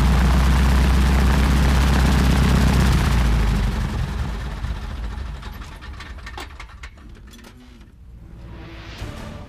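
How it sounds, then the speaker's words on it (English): A shuttle aircraft arrives on an Alaskan ridge. Its engine and rotor roar is loud and close at first, then gradually fades and thins out, leaving a rougher, more distant rumble with intermittent choppy pulses. "The final shuttle flight delivers my partner, Mark Wade"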